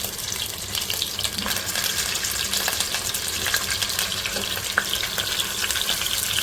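Whole garam masala spices, including black pepper, a few cloves and a black cardamom, frying in hot oil in a pan for mutton chaap korma, giving a steady, close sizzle that continues for the whole stretch with no talk.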